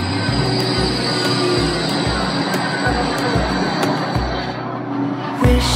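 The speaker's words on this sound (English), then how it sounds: "Here comes the tram." A tram rolls in at Surfers Paradise, a steady rumbling rail drone with rhythmic low wheel thumps over rail joints, a high whine above, ending in a louder clunk as it arrives.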